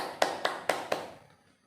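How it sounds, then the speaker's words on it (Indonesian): Hands clap for Bu Murni during a P2K2 debt-planning class simulation: four sharp, evenly spaced claps close by, then quiet. "Tepuk tangan buat Bu Murni."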